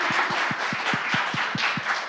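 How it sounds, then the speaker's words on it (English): Audience applause greets a breast care nurse introduced at a Kinghorn Cancer Centre breast cancer lecture: steady, dense clapping from a crowd, with soft regular low thumps underneath, and no talking. "round of applause, please"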